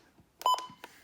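A Midland WR120EZ NOAA weather radio gives a short, clear electronic button beep, a single tonal chirp with a quick second pulse amid faint button clicks.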